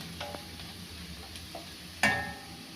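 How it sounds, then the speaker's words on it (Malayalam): Sliced onions sauté in a pan while Maggi noodles are being prepared, giving a faint, steady sizzle near the mic with light stirring taps and a sharp metallic clink late on, and no talking. "രണ്ട് മിനിറ്റോളം നമ്മൾ ഈ സവാള വഴറ്റിയിട്ടുണ്ട്"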